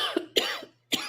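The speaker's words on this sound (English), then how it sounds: "I've been coughing for a week." Three sharp coughs in quick succession, close and dry, with short pauses between them.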